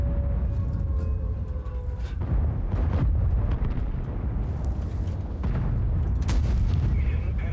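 Heavy tank cannon fire and booming impacts in World of Tanks, medium tanks in battle, rolling over a constant loud rumble of engine and battle noise, with several sharp bursts spread across the stretch.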